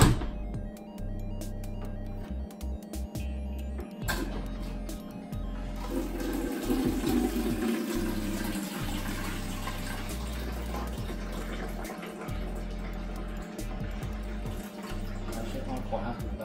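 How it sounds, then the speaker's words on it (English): Beer pours from the first tap of a homemade kegerator fed by a fitted beer line, a steady liquid rush and fill running for several seconds under a low hum, with someone talking over it. "I've hooked that up to the beer line for the first tap, and I'm just going to see how that pours"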